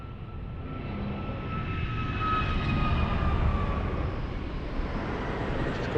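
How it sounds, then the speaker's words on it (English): A TAP Portugal Airbus A330neo arriving at Lisbon Airport produces a broad, rising jet roar with a faint whine, swelling toward the middle and then easing off slightly as it passes. "That's a TAP Portugal A330 Neo."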